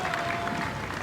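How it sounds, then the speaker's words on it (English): Spectators applauding an Isle of Ely rowing crew at Henley Royal Regatta, a steady broadband wash of clapping from a crowd along the riverbank, continuous and moderately loud throughout the brief moment. "Well, they're rightly drawing applause."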